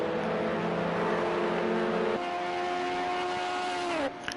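Racing cars in Project Cars 2 hold a steady engine drone down a circuit's pit straight, with a sustained high engine tone that shifts pitch partway through and drops off near the end.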